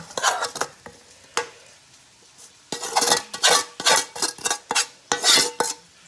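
Potatoes and meat dropped into a cooking pot, with a string of loud, close clattering knocks and scrapes of utensils against metal separated by brief pauses.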